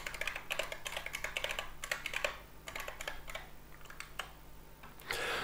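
Rapid clattering keystrokes on a computer keyboard as a password is typed while setting up ESPeasy firmware on a ZMLink RGB WiFi bulb, coming in quick bursts and pauses, close and fairly loud, with no talking.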